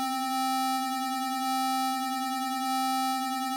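A steady synthesizer tone holds one pitch with rich harmonics. Its vibrato waxes and wanes as hand-tracking controls the modulation, giving a slow, rolling wobble with no speech over it.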